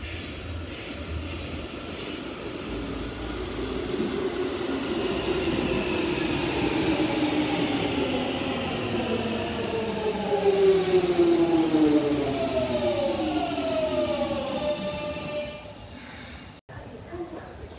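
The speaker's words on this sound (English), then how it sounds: "Jubilee line, the train." A London Underground Jubilee line train runs steadily and loudly at Westminster station, its motor whine rising and gliding in pitch as it accelerates, with a constant rumbling roar throughout.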